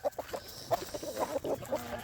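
A flock of guinea fowl being let loose outdoors in the cold makes faint, scattered clucks and short squawks, irregular and fairly distant, over low background noise.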